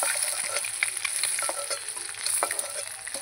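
Eggs fry in a pan for an egg curry, giving a bright continuous sizzle and crackle with small spits and stirring clicks, close and unaccompanied by speech.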